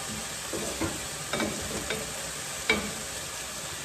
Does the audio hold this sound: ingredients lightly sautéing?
yes